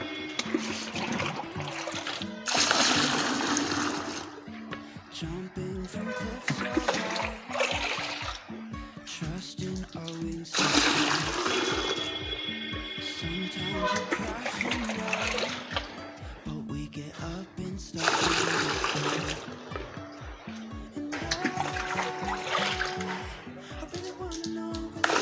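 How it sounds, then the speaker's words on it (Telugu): Water gushes into a 20-litre bucket in several bursts, pouring loudly with splashing and gurgling between quieter pauses, close to the listener. "ఈ బకెట్లో వేసి 20 లీటర్ వాటర్ వేసి"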